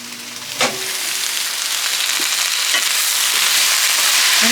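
Vegetables and mushrooms frying in a pan, a steady loud sizzle with a few clinks of stirring near the start.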